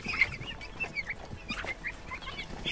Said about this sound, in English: it's Indian hen